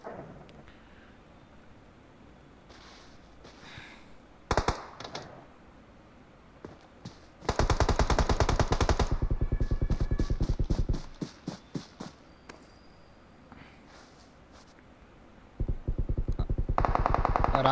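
A DP-28 machine gun fires in PUBG as loud sustained automatic bursts: a short volley, a long spray lasting several seconds, then another burst, with quiet gaps between them.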